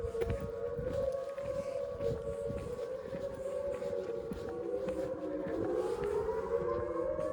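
A tornado civil defense siren test in Indian Point, Missouri, heard as a steady, sustained wail that slowly rises and falls in pitch, fairly distant but clear for the whole stretch, with no talking.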